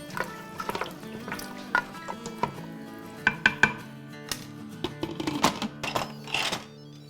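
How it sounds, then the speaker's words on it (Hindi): Mutton paya is stirred with water in an Instant Pot, with a spoon knocking and scraping against the metal pot in irregular clinks and thunks, close and clear, with no talking. "इसको अब हम हिला लेंगे।"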